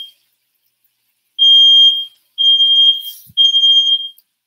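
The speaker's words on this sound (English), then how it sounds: "I've got to address this alarm." A kitchen smoke alarm sounds three loud, piercing high-pitched beeps in a row, each lasting about half a second, close by in an otherwise quiet room.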